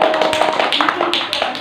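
A classroom of pupils claps for the first group after its presentation, a dense patter of many hands slapping close by, steady for over a second with a voice or two mixed in.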